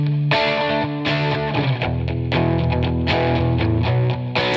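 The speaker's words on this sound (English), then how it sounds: "Here I've got this on a couple of electric guitars." Two electric guitars processed through the Eventide Saturate distortion plug-in, playing loud, driven chords and riffs with sustained harmonic-rich tone and rhythmic attacks throughout, no voices.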